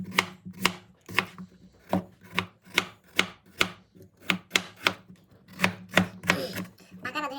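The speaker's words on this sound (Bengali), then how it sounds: "একটা আলু কাটা হয়েছে" A knife chops potatoes on a board in close, crisp, fairly regular strokes, about two per second. The cutting pauses briefly partway through.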